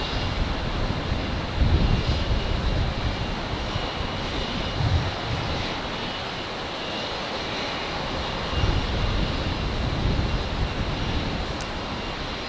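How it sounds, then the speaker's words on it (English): Jetstar flight 936 airliner lining up on runway 19 left at Brisbane at night, a faint, distant engine rumble with a few soft low surges over a steady hiss, no voices. "Jetstar 936 lining up then on 19 left."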